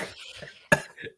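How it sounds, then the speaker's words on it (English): A person coughs once, a sharp, close burst in the middle of quieter laughter and breathy sounds. "I was laughing and coughing."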